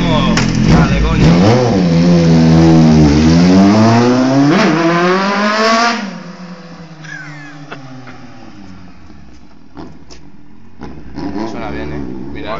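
A Kawasaki Z750 motorcycle with a LeoVince GP Style exhaust revs hard with a rough, throaty note, rising and falling in pitch, then drops to a lower idle while people talk and shout nearby.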